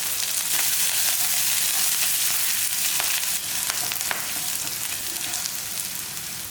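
Crushed garlic cloves crackle in hot oil while tempering for sambar, a loud, dense, continuous sizzle with scattered pops, close and without voices.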